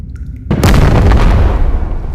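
A gunshot in the VR game Animal Company, one loud, close blast that bursts out after a brief quiet moment and rumbles on with a heavy, decaying roar.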